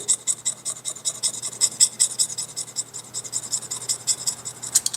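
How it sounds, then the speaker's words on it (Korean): Steady, rhythmic rasping strokes of a blade shaving down the bottom of a fishing float tip, close and fairly quiet, repeating in quick back-and-forth passes. "더 안 들어가는데 밑에를 더 깎아줍니다"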